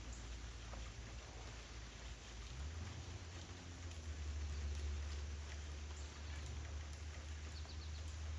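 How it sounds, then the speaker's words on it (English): Steady rain falls on an outdoor yard where squirrels and birds come to feed, a continuous soft hiss with a low rumble that swells slightly midway, with no talking. "But it's a good steady rain."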